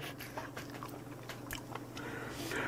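Close, crunchy biting and chewing of pen shell clam from an extra-large clam hotpot, with repeated wet crunches at a steady pace and no talking.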